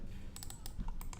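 Keys clatter in a short quick burst of close, bright taps on a computer keyboard while entering a number of threads, over a faint steady background hum.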